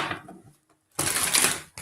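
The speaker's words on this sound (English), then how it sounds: "2 more shuffles" Tarot cards being shuffled in bursts: a short riffle, a pause of near silence, then a louder, longer papery flutter, ending with a quick final snap.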